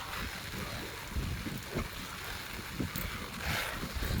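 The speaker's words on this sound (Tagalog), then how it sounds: "Dito na naman malakas ang hangin talaga dito, walang nakaharang." Strong typhoon wind on Lamma Island, at Yung Shue Wan, roars in steady gusts against the microphone with a dense broadband rush and low buffeting thumps and no voices.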